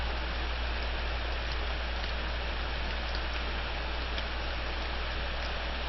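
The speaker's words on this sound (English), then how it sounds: "it's raining" Steady, even rainfall in the video game Corpse Party Rebuilt hissing without pause, a dense wash of drops with no voices or other sounds breaking through.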